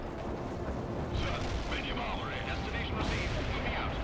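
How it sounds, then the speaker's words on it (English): Tank guns from the World in Conflict: Soviet Assault video game firing in the distance, a steady rumbling barrage of booms beneath continuous battle noise, with no clear single shot standing out. "these tanks are actually shooting at stuff over there"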